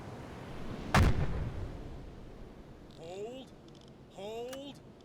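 A single loud deck gun shot from a U-boat in UBoat, a sharp blast with a rumbling decay, followed by shouted crew orders.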